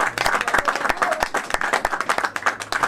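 An audience in a church claps in a quick, uneven patter of many hands, fairly close, while a voice speaks over the clapping.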